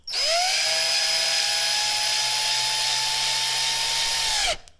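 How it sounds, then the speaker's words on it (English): A power drill bores a pilot hole into wood near the board's edge for a screw, whining at a steady high pitch after a quick spin-up, loud and close, then stopping abruptly. "the right way to pre-drill a hole"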